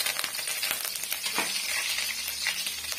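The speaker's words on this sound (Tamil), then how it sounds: "பாருங்க கடுகு வந்து நல்லா பொறிஞ்சு வந்துடுச்சு." Mustard seeds and curry leaves splutter in hot oil for a Chettinad oil brinjal curry, a steady crackling sizzle with scattered sharp pops, close and without speech.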